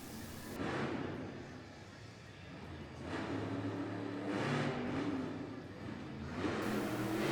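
A monster truck drives across a dirt arena track at a Monster Jam freestyle event, its engine roaring and swelling steadily in an indoor coliseum with a continuous rumble and rising surges.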